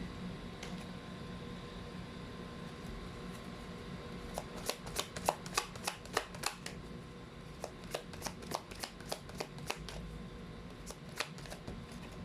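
A deck of tarot cards is shuffled close by, with bursts of crisp riffling snaps coming in quick clusters over a faint room hum, growing busier in the second half.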